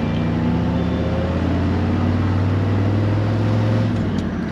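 A Ford FE 390 V8 engine in an F100 pickup idles steadily with a deep, low rumble and a constant mechanical drone, close and loud throughout, with no talking.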